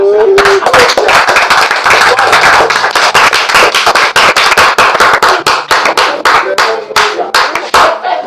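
A church congregation breaks into loud applause during a sermon, a dense wash of many hands clapping steadily that thins into scattered, distinct claps toward the end, with a faint crowd murmur beneath.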